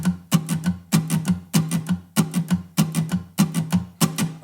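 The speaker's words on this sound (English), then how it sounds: "Boom chicka strumming sounds like this." Guitar plays a steady boom-chicka pattern for a song: a low bass note followed by quick brushed strums, repeating in an even, bouncy rhythm.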